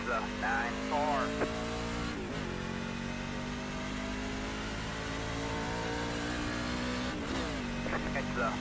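Race car engines drone steadily on a track, with engine pitch shifting as cars pass, while voices speak over the noise.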